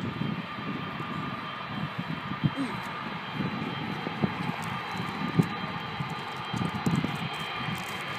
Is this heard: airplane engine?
yes